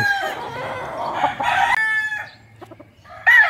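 A bulik gamecock crowing loudly close by, with clucking from other fowl around it in a yard, ending on another sharp crow.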